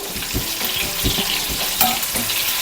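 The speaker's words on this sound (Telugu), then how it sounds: "ఒక వైపు ఫ్రై అయింది ఒక వైపు తిప్పుకుందాము" Chicken 65 pieces fry in hot oil in restaurant style and are flipped over, giving a continuous crackling sizzle with soft knocks and scrapes of a utensil against the pan.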